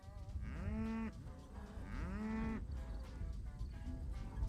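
Cattle on a Nebraska ranch low in several drawn-out moos, about three calls spaced a second or so apart, moderately near over quiet outdoor background.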